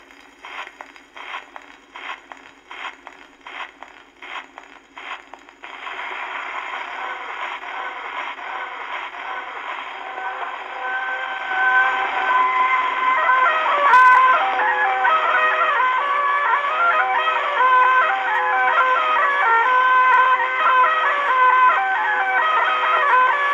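A wind-up Victrola gramophone with a fresh, sharp needle plays a record: a few seconds of rhythmic scratchy ticking, then thin, tinny, band-limited music that grows steadily louder.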